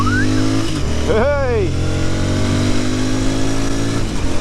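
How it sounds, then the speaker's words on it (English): A Royal Enfield Interceptor 650 motorcycle shifts down a gear and pulls away: the engine note drops, then rises in a quick, loud, close rev before settling into a steady drone. A rider's shout cuts in briefly. "Down a gear, round we go."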